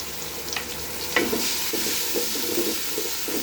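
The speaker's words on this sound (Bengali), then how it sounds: "এবার মশলাটা ভালোভাবে কষিয়ে নেব" Ginger paste, garlic paste and spices fry and are stirred in a pot for white pulao: a constant bright sizzle broken by scraping stirs and soft knocks, close and alone.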